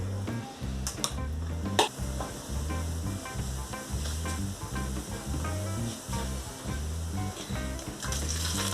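Mustard seeds and cumin sizzle in hot oil while a South Indian coconut tomato chutney is tempered. The hiss is constant and moderate, with a few sharp pops, under steady background music.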